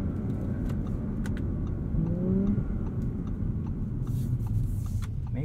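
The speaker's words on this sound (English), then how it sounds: "Love those little pops between shifts. This V6 does sound good." A 2021 Audi S4 with a V6 and eight-speed transmission accelerating from inside the cabin, engine note rising and dipping through gear shifts with small pops between them, steady and fairly loud.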